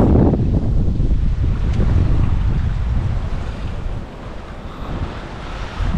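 Gusty wind buffeting the microphone with a low rumble during a bike ride at Rutland Water, strong at first and easing slightly, over faint open-water ambience.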